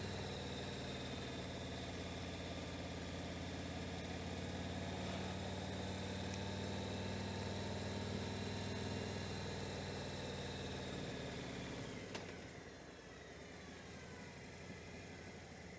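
Motorcycle engine running while riding, a steady droning hum with sustained tonal harmonics and a drop in pitch and level near the end, continuous and close, with no talking.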